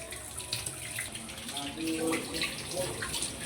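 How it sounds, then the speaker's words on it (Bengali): Running tap water splashes steadily over pomfret fish being washed by hand in a kitchen sink, a continuous close wash with a voice speaking over it. "আমি সুন্দর করে আগে মাছগুলো ধুয়ে নিই"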